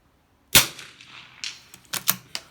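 Custom-stocked Brno rifle fired at a shooting range, one sharp loud crack followed by several fainter echoing reports and clatter, no talking.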